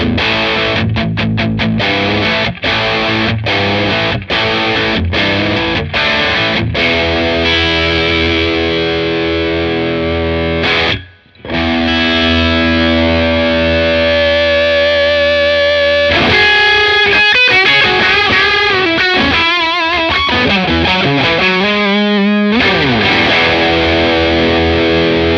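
A Mark Sampson-modded Bad Cat Black Cat 30 amp driven at high gain carries loud distorted electric guitar, with choppy staccato chords, sustained ringing notes, a brief silence, then fast riffing and bends.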